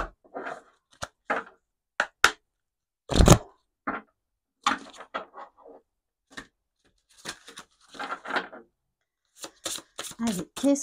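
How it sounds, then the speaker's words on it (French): Sorcière de Lune oracle cards are handled and shuffled in short bursts of riffling and tapping, with soft clicks and a sharp knock, close by, interleaved with someone speaking. "On va prendre quelques cartes de l'oracle Sorcière de Lune."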